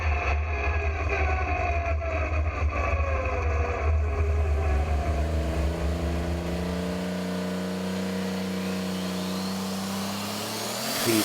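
A retro John Deere 5820 tractor, run by the Zenstra team's Green Gangster Deer, roars off the line on the Bouconville tractor pulling track, its loud engine climbing steadily in pitch as it pulls away, with no voices over it.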